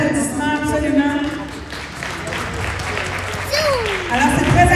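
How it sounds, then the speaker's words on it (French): An audience at a youth basketball game, Prep U Sentinels versus Alpha, in Montréal-Nord gives brief applause as a French-speaking announcer talks over it and continues speaking afterward. "Un mot de bonne main d'applaudissement, absolument."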